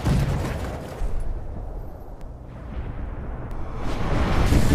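An explosion at a factory in a film scene erupts into a loud, sustained roar of broadband rumble that swells, dips briefly and builds again without pause.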